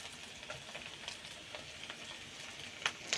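Ground cumin, coriander, turmeric, chili and Kashmiri red chili fry in hot oil for a chicken and young jackfruit curry, giving a soft, steady sizzle with occasional stirring scrapes, quiet and without talk.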